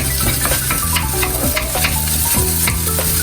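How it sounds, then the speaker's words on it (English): Rice sizzling loudly in hot oil in a pan for egg fried rice, with steady frying crackle and repeated scraping stirs of the utensil throughout, close and continuous, no talk. "Now we add the rice."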